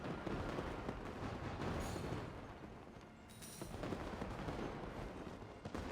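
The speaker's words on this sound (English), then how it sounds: "Please, the fireworks." Fireworks in a video game crackle and boom in a continuous, dense barrage, loud and rumbling throughout with brief swells of sharper bursts.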